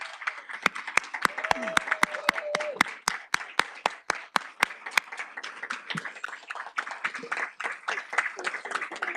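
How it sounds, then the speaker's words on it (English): A room at a school governing board meeting applauds teachers, with dense clapping from a moderate crowd, sharp individual claps prominent early, then thinning into softer scattered clapping and murmurs. "give them a round of applause for supporting our students in this endeavor"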